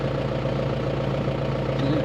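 A tractor engine idles steadily at close range, a continuous low, even rumble with a regular pulse and no talking over it.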